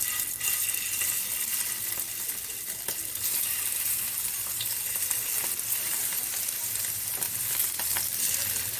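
Prawns frying in hot oil for prawn biryani, a loud, dense and continuous sizzle with crackling spits throughout, close up and without talk.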